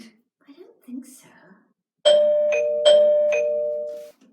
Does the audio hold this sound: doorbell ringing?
yes